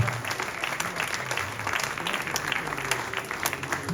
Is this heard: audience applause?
yes